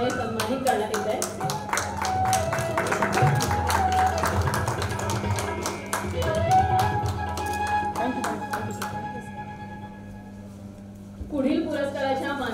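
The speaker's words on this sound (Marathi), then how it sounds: "डॉक्टर लीना ठाके यांच्यासाठी जोरदार टाळ्या होऊन जातात." Clapping from the audience at a women's award ceremony in Nashik, where an honoree receives a shawl and trophy, runs as a rhythmic patter under music and talking voices, fading briefly near the end before picking up again.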